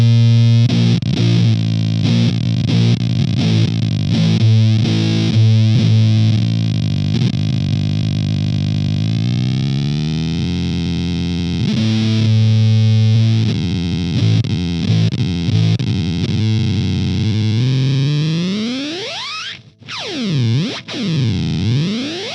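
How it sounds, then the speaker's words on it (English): Heavily distorted electric guitar through a DIY Fuzz Factory fuzz pedal with its noise gate engaged: chopped staccato bursts, then long sustained notes that sputter and swoop into pitch-sweeping gated squeals near the end, loud and close, no talking. "let's just see how the noise gate works here"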